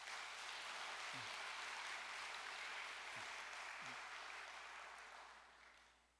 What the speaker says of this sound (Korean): 아름다운 찬양을 해준 우리 선가들을 위해서 박수 한번 보내겠습니다.